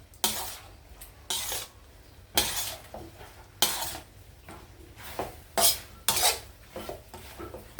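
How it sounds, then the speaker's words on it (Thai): Pork rinds stirred and simmered in oil, a utensil scraping through the pan in repeated short bursts over a low, steady sizzle and bubbling, close and fairly quiet, with no talking. "ผัดไปเคี่ยวไปเคี่ยวไป น้ำมันเริ่มก็จะเริ่มออกมาค่ะ"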